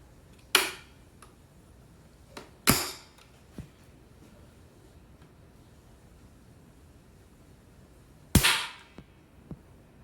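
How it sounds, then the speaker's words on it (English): Marlin 795 rifle shots, three sharp cracks spaced several seconds apart with a few faint clicks between, clear and close in a quiet setting. "Yep, that's the first shot."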